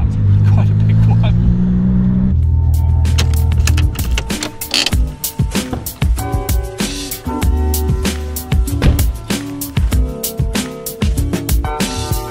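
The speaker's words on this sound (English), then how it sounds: "pops and bangs coming out of the exhaust now and again" A tuned 777 hp Porsche 997 GT2 idles with a low rumble, then fires off a rapid series of sharp exhaust pops and crackles up close, irregular bursts continuing for several seconds.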